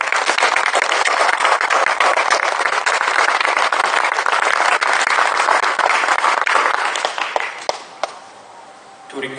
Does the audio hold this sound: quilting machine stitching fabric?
no